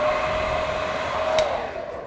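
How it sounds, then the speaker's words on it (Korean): A hair dryer with a wide nozzle blows steadily while a man's short hair is being styled, a close, continuous whoosh with a faint tonal whine that dips near the end. "이 드라이기 노즐이 넓게 생겼잖아요"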